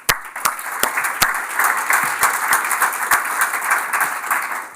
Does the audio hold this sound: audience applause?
yes